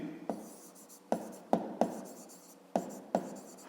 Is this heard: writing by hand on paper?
yes